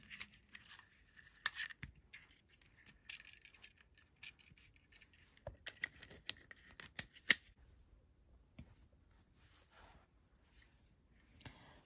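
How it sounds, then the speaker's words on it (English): Quiet close snips and small metallic clicks of cutters trimming beading wire, scattered irregular cuts over near silence. "I'm just gonna cut another about 6-7 inches of wire."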